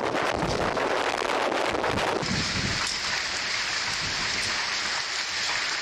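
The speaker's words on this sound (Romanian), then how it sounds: "O furtună puternică a lovit Milano, iar rafalele de vânt au bătut cu 80 de km la oră." Strong wind gusts roar against the microphone during a severe storm in Milan, with heavy rain hissing beneath; loud and continuous, with no voices.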